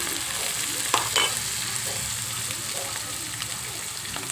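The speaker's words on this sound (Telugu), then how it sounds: "అలాగనే అల్లం వెల్లుల్లి పేస్ట్ కూడా వేసేస్తానండి" Ginger garlic paste fries with onions and soya chunks in a pan, making a continuous close sizzle with a few stirring scrapes near the start.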